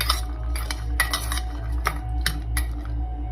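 Chopped onion, corn and green chili being stirred together in a bowl, with repeated clinks and scrapes of a spoon against the dish, fairly close and steady, no talking.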